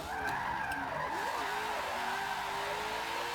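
Ford Mustang RTR (2018) drifting at full lock in Forza Motorsport 7, tires squealing in a sustained wavering screech over a steady engine drone.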